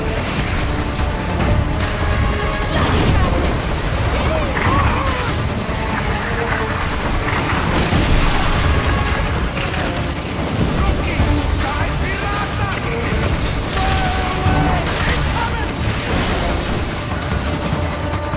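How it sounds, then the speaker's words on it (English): Ship cannon fire from a naval battle in the Skull & Bones video game: dense, continuous booming volleys mixed with crashing waves and battle noise, loud throughout. "Turns his cannons on you. You brace for fire, absorbing the first blow."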